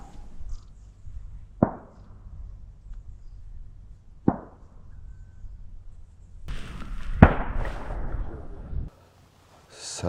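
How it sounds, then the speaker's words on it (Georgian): Gunshots ring out from far below during a jackal hunt in Akhmeta, Georgia: three sharp, faint reports spaced a few seconds apart over a quiet outdoor background, with a brief burst of rustling noise near the last one. "გასროლის ხმები ქვემოდან გავიგეთ"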